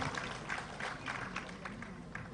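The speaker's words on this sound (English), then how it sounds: "Please extend a huge round of applause, ladies and gentlemen." Applause from an audience at a Tech Global Summit felicitation in Andhra Pradesh, heard as a steady, faint, distant wash of clapping that runs the whole time.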